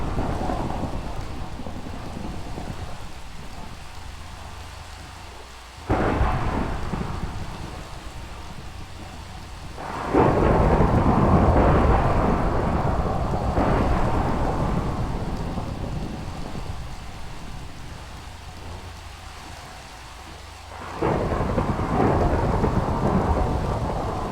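Heavy rain falls steadily while loud rumbles of thunder roll in several times, swelling and fading, nearby and powerful.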